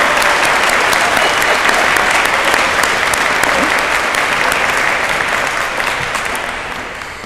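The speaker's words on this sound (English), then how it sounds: "And now they need a round of applause." Sustained applause from a commencement audience for the graduating class of 2022 at a university ceremony, a dense even wash of clapping that stays loud throughout and thins slightly toward the end.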